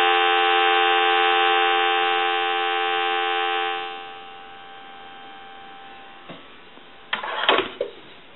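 A steady telephone dial tone hums through a Kellogg wooden crank wall phone for about four seconds, then fades, followed by a few faint clicks and a short rattle near the end.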